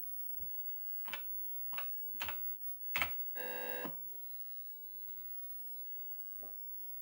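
Keys tapped on an Atari 800XL computer keyboard, five distinct clicks in an uneven rhythm followed by a short steady electronic tone and a faint hum, then one more soft tap near the end; close and fairly quiet, no voices.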